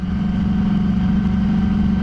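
A Yamaha R6 motorcycle engine held at a steady, buzzing pitch, sounding like a pit limiter, close and continuous with a slight rapid pulsing.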